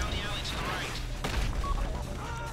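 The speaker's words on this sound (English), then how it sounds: "Much explosions." Explosions and gunfire crackle in a heist mission of the video game GTA V, a dense mix of booms and bursts running under a player's talk throughout.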